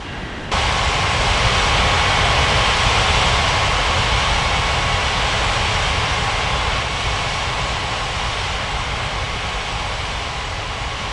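Airplane taking off on runway 35 in the mobile game Unmatched Air Traffic Control, a loud sustained engine roar that rises sharply after a brief quiet start and stays dense and even.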